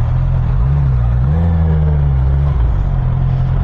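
Steady low engine drone of road traffic on the Skyway on a Saturday, a car engine humming and rising slightly in pitch, continuous and close with no talk.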